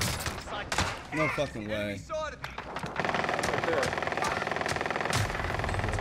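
Rapid automatic gunfire from a fast-firing weapon in a battle royale shooter game, a dense unbroken rattle of shots loud and close, starting after a burst of excited talk that continues over the opening seconds.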